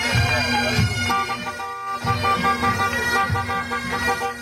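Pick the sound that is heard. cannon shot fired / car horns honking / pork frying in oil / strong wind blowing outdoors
car horns honking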